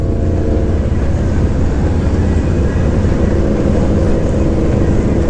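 Motorcycles at the 2022 Sturgis rally, a loud continuous engine roar filling the whole span with no breaks.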